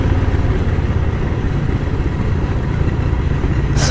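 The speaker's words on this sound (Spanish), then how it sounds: "Y aquí vemos una moto con 4 tripulantes." A motorcycle carrying four riders rumbles close by on a street in Tonatico, Estado de México, a loud, steady mid-pitched engine drone that holds throughout, ending in a brief high clatter.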